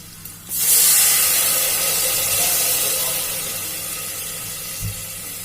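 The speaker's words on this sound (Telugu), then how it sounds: "ఇప్పుడు 4 గ్లాసెస్ వాటర్ వేస్తున్నా" Water gushes steadily into a cooking pot for biryani rice with a hissing, splashing rush that slowly softens, a brief knock near the end.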